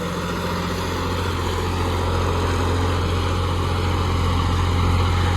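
A John Deere 5310 4x4 tractor engine runs at a steady idle, a continuous close, low diesel hum and rumble with no breaks or talking.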